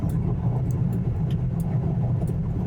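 A Kia e-Niro electric car drives an Arctic road in Finland at minus nine degrees. Steady, loud low road and tyre rumble fills the cabin with no engine roar and no voices.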